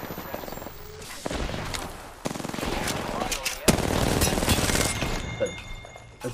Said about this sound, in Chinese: 怎么有枪声？